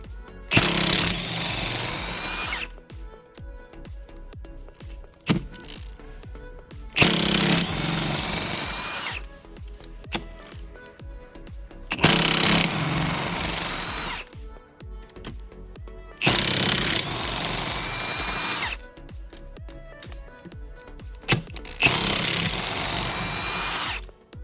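A power tool whirs in five separate bursts of a few seconds each, removing the engine's main bearing bolts, with short quiet pauses and light clinks between the bursts.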